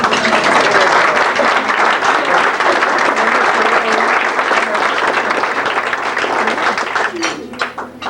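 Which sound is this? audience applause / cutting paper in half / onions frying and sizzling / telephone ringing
audience applause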